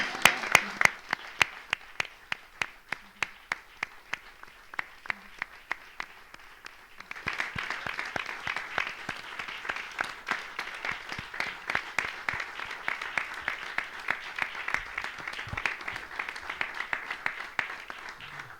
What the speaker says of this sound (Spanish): Y un aplauso para Silvia, por favor.